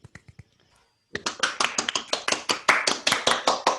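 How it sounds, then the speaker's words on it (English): A few people clap on a remote online call, a handful of sharp close claps, a short pause, then a quick run of roughly fifteen distinct claps in an uneven rhythm. "A round of applause for him."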